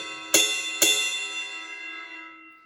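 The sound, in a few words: bell of a ride cymbal, high-pitched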